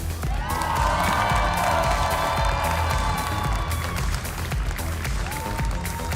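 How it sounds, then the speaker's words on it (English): A large crowd at the Pokémon North America International Championships cheers and applauds, a dense roar of clapping and whoops with rising shouts, sustained and loud across the whole stretch. "oh, the crowd, you hear that? That's a lot of cheering."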